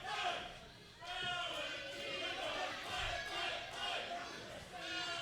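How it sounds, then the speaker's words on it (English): A wrestling crowd at a UCW ZERO Rocky Mountain Rumble show chants a wrestler's name and "fight" in a repeated rhythmic cadence, fairly distant within the arena and mixed with other voices. "Crowd chanting, Valentino, fight, fight, fight"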